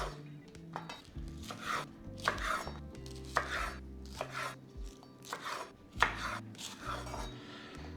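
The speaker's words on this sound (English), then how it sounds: "I'm gonna do some nice long angled slices here. Cutting it quite thinly." A knife slices the green parts of vegetables thinly on a cutting board for takeout-style fried noodles, with a steady series of crisp chopping strikes over a low background hum, close and clear with no talking.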